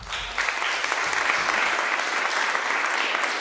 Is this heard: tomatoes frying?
no